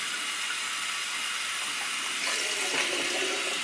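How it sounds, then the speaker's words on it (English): Hot water sprays steadily from a bidet, a continuous bright hissing rush at close range, even and unbroken throughout with only slight shifts in tone, no voices. "And that's how you get the hot water running."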